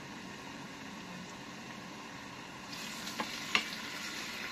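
Food fries in a pan with a soft, constant sizzling hiss, fairly faint and close, broken by a few light ticks and pops toward the end.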